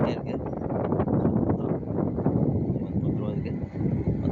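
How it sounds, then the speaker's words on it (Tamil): Strong wind blowing outdoors during a meal, a steady broadband rush buffeting the microphone throughout, with people talking over it. "காற்று சரியான காற்று அடிக்குதுங்க சாப்பிடும்போது"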